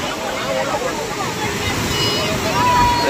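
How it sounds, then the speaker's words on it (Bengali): Sea waves break and wash up the beach at Digha, a steady loud roar of surf with wind and a crowd of beachgoers chattering in the background. "সমুদ্রের ঢেউ দেখো, সামনে অব্দি চলে আসছে"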